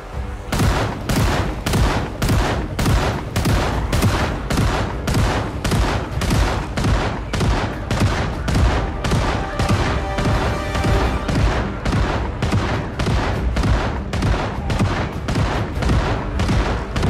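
Shotgun fire in the survival game Project Zomboid, a long run of loud, sharp blasts repeating at a fast, fairly even rhythm, each shot cutting off cleanly, with no talking over it.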